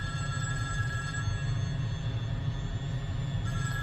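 A steady electronic telephone ring trills continuously, clear and close, with no voices over it, from the film Gravity dubbed in Hindi.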